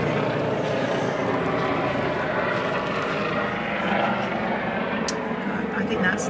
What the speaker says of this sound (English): Helicopter's going over now.